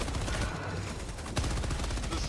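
Dense, continuous gunfire from Helldivers 2 rattles without a break, a heavy barrage of overlapping shots with one sharper blast standing out midway.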